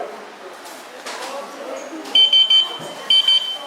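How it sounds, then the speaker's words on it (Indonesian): A baby incubator alarm sounds for empty humidity water: a series of sharp, high electronic beeps in two short clusters, following a stretch of quieter background noise with a voice present. "Ini adalah indikator alarm ketika humidity kosong atau airnya habis."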